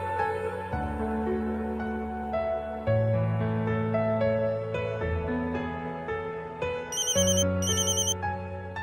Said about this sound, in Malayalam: അച്ചായ ദേ ജിജോ വിളിക്കുന്നു.